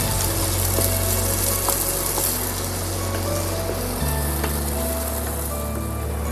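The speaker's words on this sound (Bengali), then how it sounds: "পেঁয়াজটা আমাদের এইভাবে ভাজা হয়ে গেছে হালকা ব্রাউন করে নরম নরমই থাকবে" Onions frying in a pan for chira pulao, a steady close crackling sizzle with faint stirring scrapes that runs throughout, with no talking.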